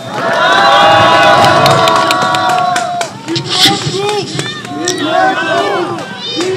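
An outdoor crowd at a press conference in front of Seoul Detention Center claps and cheers loudly, mixed with shouts and babble, with a voice on a loudspeaker heard through the noise.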